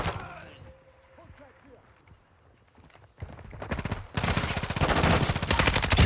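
Lachmann 556 assault rifle fire in Modern Warfare II, starting after a quiet stretch of game sounds and low voices, then loud rapid automatic bursts that grow into sustained fire over the last few seconds.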